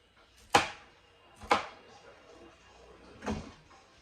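A knife cuts the core off a cauliflower in a home kitchen, three separate crisp cracking crunches spaced about a second apart, close and fairly quiet.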